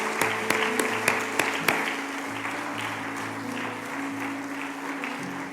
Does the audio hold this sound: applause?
yes